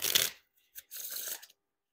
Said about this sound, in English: I mean, riffle shuffle them.